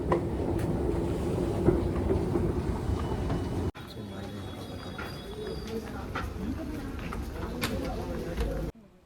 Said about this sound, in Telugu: నేను వచ్చిన మెట్రో ట్రైన్ అండర్ గ్రౌండ్ కాబట్టి